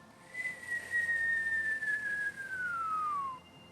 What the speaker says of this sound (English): So inhale as a whistle.